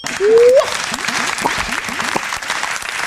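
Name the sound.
applause sound effect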